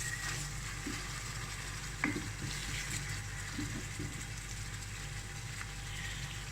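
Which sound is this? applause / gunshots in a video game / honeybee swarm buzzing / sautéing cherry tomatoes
sautéing cherry tomatoes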